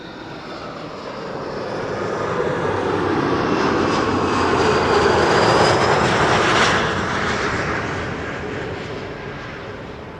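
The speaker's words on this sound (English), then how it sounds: "an Embraer 175 arrival from Geneva" An Embraer 175 jet arriving at Schiphol roars past on landing, its engine noise building from a distance to a broad, loud peak mid-pass and then fading as it moves away, with no talk.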